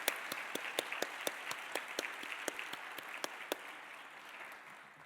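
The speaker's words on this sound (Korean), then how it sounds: "우리 하나님 앞에 다 같이 감사의 박수로 올려드리겠습니다" A chapel congregation at a Methodist theological seminary opening worship gives applause of thanks, soft, distant and even, with a few sharper claps standing out, fading toward the end.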